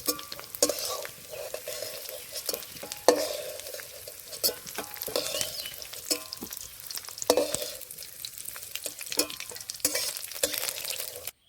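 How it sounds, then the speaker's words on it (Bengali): Potatoes fry in hot oil under a continuous sizzle while a spatula stirs them in frequent, uneven scraping strokes against the pan, close and moderately loud throughout. "আলুগুলো ভেজে নিয়েছি এবার তুলে নেব"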